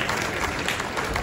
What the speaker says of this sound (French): Et qu'on applaudit.